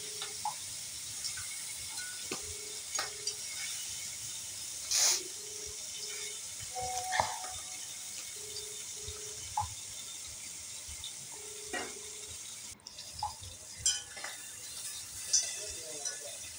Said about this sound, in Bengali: এই দেখো মাছটারে লাল করিয়া ভাজবো